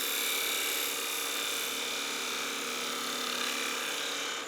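A wood lathe spins a gnome Christmas ornament while a gouge takes a light refining cut on the hat, making a steady high whine and hiss that holds evenly throughout with no voices.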